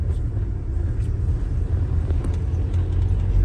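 Inside a car creeping along slowly in second gear during a driving lesson, the engine gives a low, even rumble and road drone that holds steady throughout, with no talking over it.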